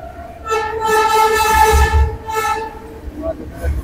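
Aboard the Duronto Express 22201 from Sealdah to Puri as it passes Dakshineswar station: a loud, sustained horn blast sounds over the rumble of the rolling train, fading after about three seconds.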